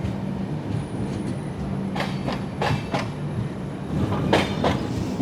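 LHB coaches of the Kozhikode–Thiruvananthapuram Jan Shatabdi Express roll steadily on rails with a continuous low rumble and a few sharp clicks from the wheels, heard up close without talk.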